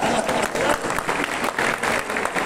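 Loud, sustained clapping from a concert audience at the Turyap 37th anniversary gathering concert, dense applause that swells in waves with crowd murmur mixed in.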